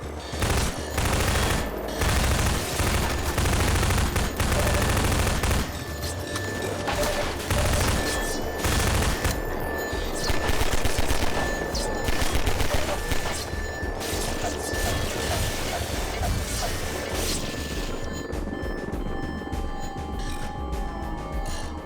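A big gun fires in the shooter Half-Life 2 amid the sounds of a crowded battle, with sustained heavy rapid fire and crashing impacts running loud and continuous throughout.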